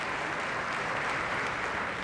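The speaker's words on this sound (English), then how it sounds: "A round of applause, please." A large arena audience at a song contest's jury voting applauds in a continuous, roaring wash of clapping, uniform and sustained with no clear voices.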